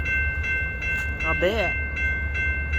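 A DeQueen and Eastern Railroad GP-30 diesel train rumbles past in Valiant, Oklahoma, with a steady low roar and a sustained horn tone. A person briefly speaks over the noise.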